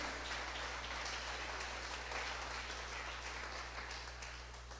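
A church congregation applauding during a service, a faint and steady wash of many hands clapping heard at a distance under a low hum.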